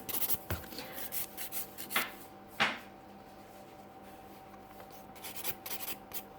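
A nail file rasps across salon almond nails in short, separate scraping strokes, close and fairly quiet, with soft pauses between passes.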